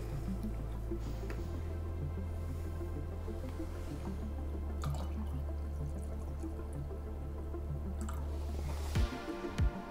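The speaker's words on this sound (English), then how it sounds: "I'm gonna add the cold water." Cold water is poured steadily into a mix of Kodak D76 photographic developer, a continuous low liquid rush that shifts pitch as the container fills, ending with a few drips and splashes.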